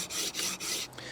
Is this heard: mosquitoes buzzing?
no